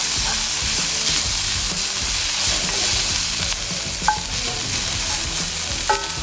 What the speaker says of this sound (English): it will start boiling instead of this frying and this crusting process